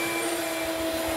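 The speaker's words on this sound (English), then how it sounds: "So I'll have the flex here and we'll also do a custom central vac." A custom central vacuum system runs at a car wash detailing a Porsche Panamera 4S, giving a steady loud whooshing drone with a constant tonal whine, close and uninterrupted.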